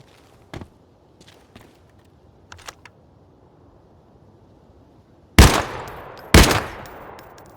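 MP40 submachine gun fire in Arena Breakout: Infinite, two loud sharp shots with decaying echoes after a stretch of faint clicks and footsteps.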